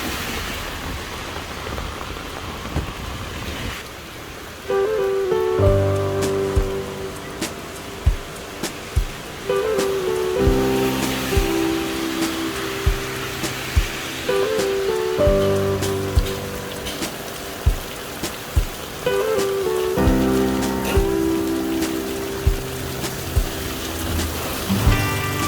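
Steady heavy rain pours and patters on a hard surface of a street in Taipei, Taiwan, with faint tonal music rising and falling in the background and occasional louder drips.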